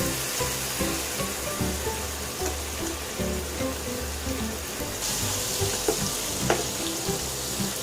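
A beef steak fries in a pan with butter added, giving a dense, continuous sizzle that grows brighter and louder partway through, with a few small clinks.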